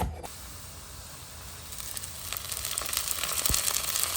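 Masala of onion and spices frying in a pan for a Goan king fish jeerem meerem curry, a steady close sizzle and hiss that grows slightly louder, with a brief clink near the end.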